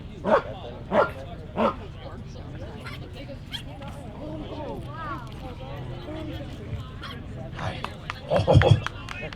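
A police dog barks loudly several times at the start of a bite demonstration at an emergency vehicle show, then voices and crowd noise follow, with another close burst of barking near the end.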